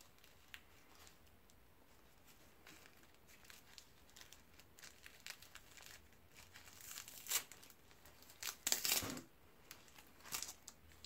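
Cargo parcel package being opened by hand, with soft crinkling and tearing of packaging, quiet at first, then a few louder rustling bursts near the end.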